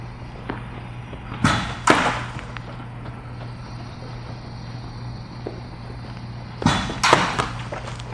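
A JUGS football passing machine on a practice field fires two balls in quick succession, each a sharp thump followed by a whooshing launch, with a steady low hum from the machine running between shots.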